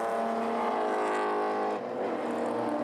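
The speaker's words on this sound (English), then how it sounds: "The E36 shape BMW 3-litre." A BMW E36 3-litre race car on a race track, its engine loud and droning at high revs, with a slight dip as it passes by.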